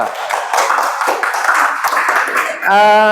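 A classroom of students claps for group 2, a dense patter of many hands under a teacher's voice that ends in a loud, sustained tone at the close.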